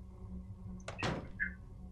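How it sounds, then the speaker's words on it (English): A door opens in Silent Hill 2, one quiet mechanical thunk and creak followed by a short sliding scrape, heard alone over a low ambient hum. "I thought I hit map again, but I actually opened the door"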